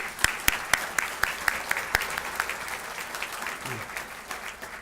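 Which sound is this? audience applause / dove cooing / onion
audience applause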